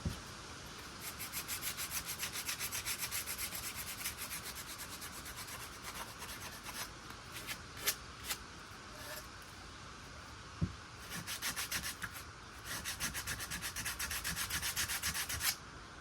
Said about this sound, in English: Might have to sand the fronts a little bit just by hand